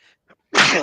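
One abrupt, loud sneeze bursts out close by after a couple of faint breathy sounds.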